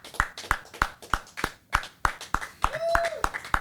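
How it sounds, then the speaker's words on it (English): A hand tapping on a surface: about a dozen sharp, evenly spaced taps, close and fairly loud, with a brief tonal hum near the end. "Oh, you're tapping."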